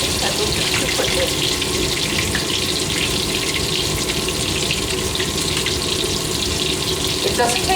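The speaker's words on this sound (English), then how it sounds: "It doesn't take long to fry these at all." Veal cutlets fry in a pan for veal parmigiana, a loud steady sizzle and hiss with faint utensil scrapes close by, no talk.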